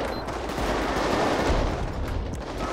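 Dense rifle gunfire in GTA 5 with the LSPDFR police mod, a loud, continuous barrage of overlapping shots that fills the whole stretch without pause.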